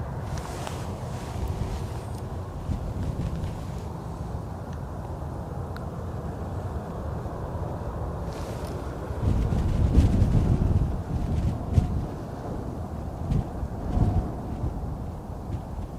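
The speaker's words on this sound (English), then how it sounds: "Still a bit windy." Steady wind buffets the microphone outdoors near Edinburgh Airport, a continuous low roar with a few stronger gusts swelling midway and near the end; no voices.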